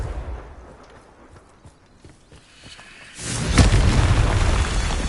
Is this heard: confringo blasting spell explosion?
yes